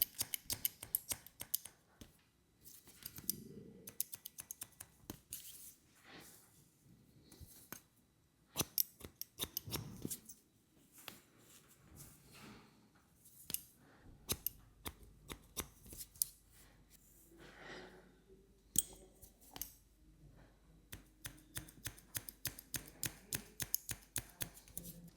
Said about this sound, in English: I'm only taking off about 1 centimeter with scissors, just shortening the graduation a bit